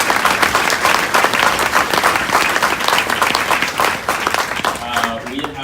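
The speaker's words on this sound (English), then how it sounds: "I want to give a round of applause to all of our students" An audience claps for students in a dense, loud, sustained round of applause that fills the room evenly, with a voice starting to speak as it tapers off at the end.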